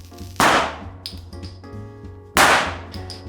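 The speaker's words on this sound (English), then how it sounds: "We'll make different mixtures and explode them." Two sharp bursts from a small ignited yellow powder chemical mixture, each a sudden loud crack with a ringing, decaying tail, spaced about two seconds apart with faint clinks and rattles between them.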